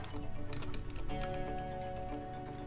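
Rapid, light keystrokes clatter on a computer keyboard in a quiet room, an irregular stream of close clicks while searching for a course name.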